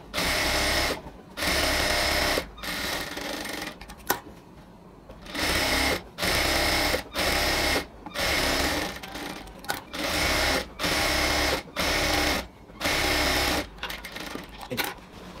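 A sewing machine stitches a ladies' pant in repeated whirring bursts of a few seconds each, separated by short stops, loud and close.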